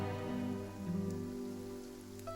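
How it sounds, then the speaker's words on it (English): Steady rain falls across Fontaine in the video game Genshin Impact, a soft continuous patter spread evenly over the whole moment, with game music tones sustained underneath and no voices. "It's raining."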